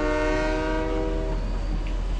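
A train in the Fortnite video game sounds a loud, sustained horn blast with a layered, steady tone, held close for a couple of seconds over rumbling rail noise.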